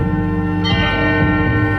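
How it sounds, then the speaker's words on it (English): A church bell strikes once and rings on loudly, its deep tone sustaining and humming steadily through the short stretch without other sounds. "the clamorous bell spake out right well to the hamlet under the hill"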